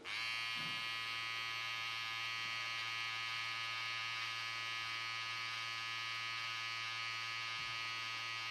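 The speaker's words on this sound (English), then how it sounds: "So your trimmer, you're gonna angle it." Close, steady buzzing from an electric beard trimmer held at an angle while trimming a full beard, an unbroken whine that runs alone with no voices.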